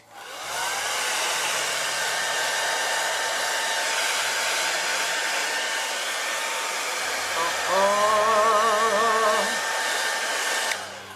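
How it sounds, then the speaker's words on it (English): A hair dryer blowing continuously at close range over resin to pop air bubbles, a steady whooshing roar with a wavering pitch shift near the end before it cuts off. "Just blasting them a little with the hairdryer"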